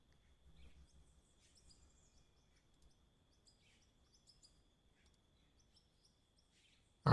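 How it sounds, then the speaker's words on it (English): Bird-song ambience in the mining video game Out of Ore: a few faint, scattered high chirps and tweets over near silence, ending in a brief louder burst. "Yes, the bird sound is in game"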